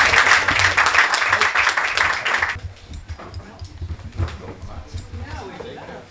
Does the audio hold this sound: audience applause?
yes